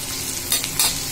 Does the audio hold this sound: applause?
no